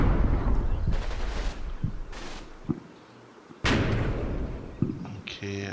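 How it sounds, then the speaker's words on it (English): Mortar and gunfire in a war video game, heard as repeated booming thuds and sharp blasts, with one loud impact near the end, mixed with the game's background noise. "that's a mortar"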